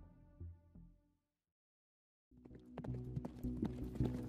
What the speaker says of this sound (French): Sur un cheval lancé au triple galop, dans la campagne flamande